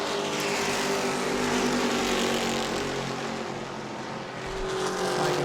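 Super Stock race cars at New Smyrna Speedway drone past in a continuous, loud engine roar that swells and fades slightly as the pack circles the track.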